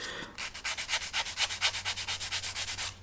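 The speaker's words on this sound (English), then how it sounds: "So I've got 600 grit here, soft sponge," A soft 600-grit sanding sponge rubs back and forth along the seam of a 1/200 Heller Elizabethan plastic model, making quick, even, rhythmic scratchy strokes, close and fairly quiet.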